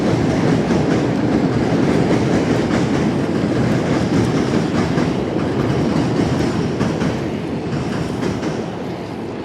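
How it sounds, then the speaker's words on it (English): A train rolls loudly over a rail bridge above the Passaic River in New Jersey, a dense continuous rumble and rattle with clickety-clack texture, close and steady before easing slightly at the end. "And that train is really loud."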